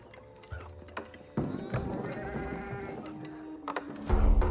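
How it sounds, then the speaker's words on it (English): Sheep bleat in the Age of Empires 4 video game, a few short nasal calls over soft game ambience with light clip-clop and clicks, loudest near the end. "We of course got the sheep here,"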